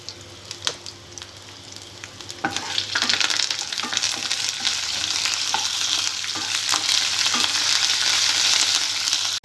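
Dried red chillies, green chillies, garlic and curry leaves sputter and sizzle in hot oil, a steady bright frying hiss with sharp crackles and pops, interrupted by occasional stirring scrapes.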